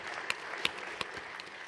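A quiet hall at an investment forum gives a soft, thin patter of clapping, with a few sharper claps standing out over a faint continuous rustle.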